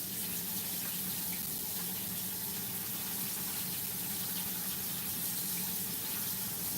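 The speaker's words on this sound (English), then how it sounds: "Now I'm going to take the basket over to the sink and rinse it." A salad spinner basket is rinsed under running sink water, a steady, even rush of tap flow that continues unbroken for about seven seconds with no talking.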